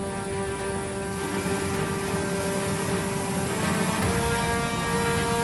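Two military helicopters, a Karakal type, deployed by Indonesian troops, heard as a loud, steady rotor and engine drone with a constant whine holding through the whole stretch, close and unbroken, with no voices.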